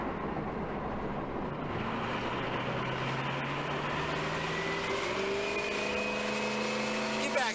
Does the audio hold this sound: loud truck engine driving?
yes